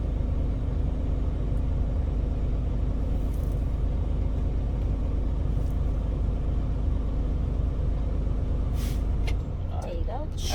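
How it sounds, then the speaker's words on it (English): A truck engine revs steadily to build air pressure through its crank-driven compressor, a loud continuous rumble close by, with a brief hiss near the end. "Your air governor, your air compressor runs off the crank, so that's why you rev it up, it gets there a little faster."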